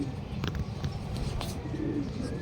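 Racing pigeons at a club training release coo in soft, low, repeated calls, moderately close, over a steady background murmur.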